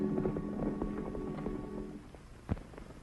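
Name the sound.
horse hooves clip-clopping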